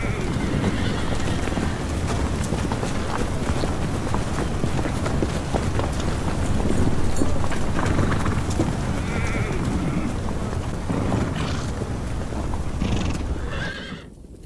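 A horse whinnies loudly and repeatedly over a dense, continuous clatter of hooves clip-clopping close by, with a faint bleating sound mixed in and no clear speech.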